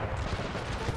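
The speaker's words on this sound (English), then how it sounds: "Those howitzers doing pretty well here, hitting the flank." Howitzer artillery firing in a Napoleonic strategy video game, a dense rumble of overlapping cannon reports with low booming thuds, continuous through a short moment.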